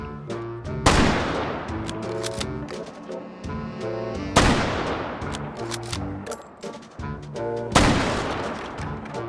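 Kar 98K bolt-action rifle fired in the VR shooter H3VR, three loud sharp reports spaced a few seconds apart, each trailing into a decaying echo over steady game music.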